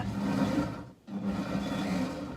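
A blender pulses an ice cream mixture containing cashew butter, giving two loud, rough motor bursts separated by a brief silent gap.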